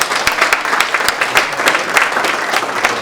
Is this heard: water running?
no